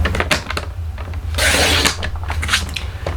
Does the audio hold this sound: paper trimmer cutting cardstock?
yes